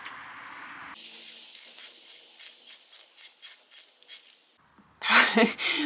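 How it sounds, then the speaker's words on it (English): A steering box bolt is worked loose on a Jeep TJ, producing a quick series of rhythmic rasping, hissing bursts close up, then a pause and a louder, harsher burst at the end. "All right, so now we're gonna remove that steering box bolt."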